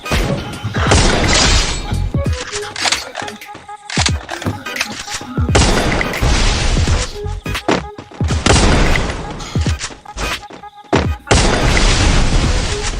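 First-person shooter gunfire crackles in loud, dense bursts of rapid shots and booming impacts, separated by brief pauses, with a player talking at times.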